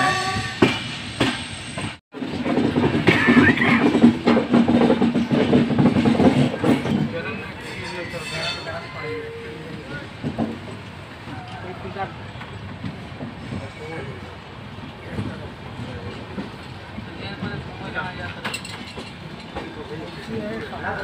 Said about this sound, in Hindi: देखिए ट्रेन जो है डिपार्चर हो चुकी है जौनपुर जंक्शन से, अब निकल रही है